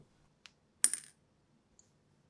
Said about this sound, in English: Some of the keyboard screws are pretty rusty, so I'll toss them in some white vinegar